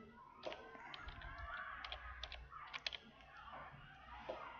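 Fingers type on a computer keyboard, a quick run of close, light key clicks over a low hum, irregular in rhythm with a few firmer taps.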